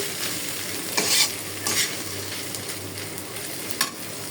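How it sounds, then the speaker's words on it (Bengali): Shrimp frying in a pan, a continuous close sizzle with a few brief louder bursts as the pieces are stirred and turned. "এখানে আমি চিংড়ি মাছ ভাজি করে নিতেছি"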